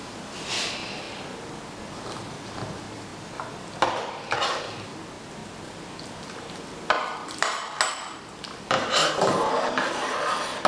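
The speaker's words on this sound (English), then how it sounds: "I'll turn the heat off and stir in the dry malt extract" Dry malt extract being stirred into a yeast starter in a pot with the heat off, a spoon scraping and knocking against the metal in uneven clusters, growing busier toward the end.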